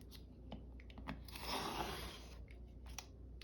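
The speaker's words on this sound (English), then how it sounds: "I have a new blade in my knife, and so this should cut fairly well." A craft knife with a fresh blade slices through paper in a faint, close, soft scratchy cut, with a few small ticks and rustles around it.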